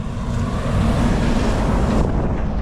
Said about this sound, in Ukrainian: Фури їдуть.